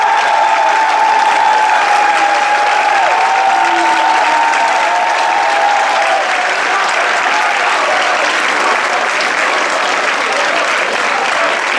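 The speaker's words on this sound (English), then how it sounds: "Let's give both of these guys a round of applause." A large audience at a Dirigo Boys State party platform assembly applauds loudly and steadily after a candidate's speech, with a few faint cheers at first and dense clapping that holds for the whole stretch.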